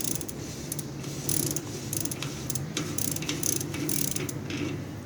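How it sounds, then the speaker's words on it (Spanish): A wrench ratchets steadily while removing the nut from a bicycle wheel's freewheel, producing a quick run of fairly faint mechanical clicks that continues throughout. "Quitamos la tuerca. Nos ayudamos de la llave para acabar de sacarla."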